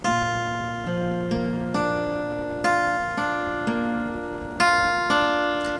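Open guitar strings plucked one at a time in a pattern, each note ringing clearly and overlapping the last, heard close with no talk.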